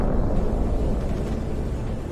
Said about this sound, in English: After such an explosion, it can be said that nothing remains of the vehicle.